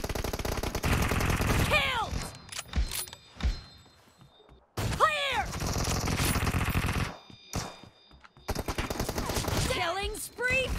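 Bursts of AWM sniper rifle fire in a PUBG Team Deathmatch round, several loud sharp shots with bolt-action clicks and chambering sounds between them, set in a busy game soundscape with spells of near silence.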